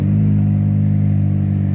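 A 2021 Chevy Silverado with the 2.7 turbo engine idling after a cold start, its muffler replaced by a clamped-in straight pipe. The idle is a loud, steady, low droning rumble, close up.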